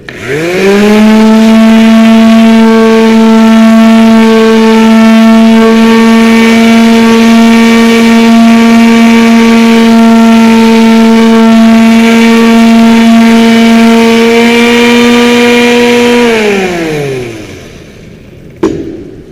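A power sander with 80 grit sandpaper whirs loudly and steadily for about sixteen seconds, rounding off the corner of a workpiece, then spins down to a stop.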